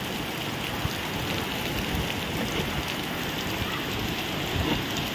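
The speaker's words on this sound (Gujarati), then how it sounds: "ચોમાસામાં કેમ વરસાદ પડતો એમ વરસાદ પડે અત્યારે." Steady rain falls hard during a windy hailstorm in a village in Botad. The wash of drops is dense and continuous throughout, and no one speaks.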